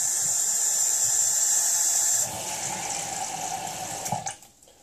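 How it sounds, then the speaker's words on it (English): Water runs steadily from a tap into a bowl of baking soda, making a continuous hissing splash that is loud at first and then softens, with a brief clink near the end and no talking. "And then I'm going to add some water."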